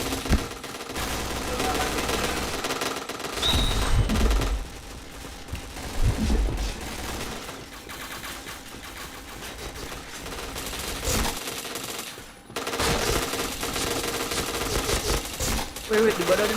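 Rapid automatic gunfire rattles in bursts through a PointBlank shooter match, broken by short pauses, under a player's excited voice talking over the action.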